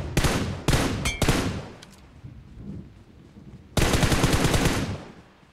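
Gunfire in PUBG Mobile on the Sanhok map: loud, close automatic weapon bursts, a fast volley, a pause with faint distant shots, then another sustained rapid burst, with no talk.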